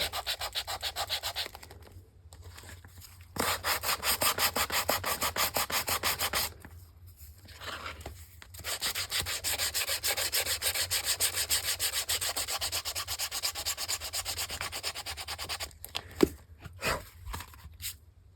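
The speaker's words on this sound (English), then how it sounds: "when I sand, I just sand. And it gets those edges nice and rough so that they'll take a little bit more ink." Sandpaper rubbed along the edges of an altered book cover to rough them up, a close, continuous scratchy rasp in long runs of rapid back-and-forth strokes broken by a few short pauses.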